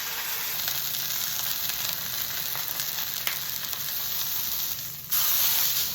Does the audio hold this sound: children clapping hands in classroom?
no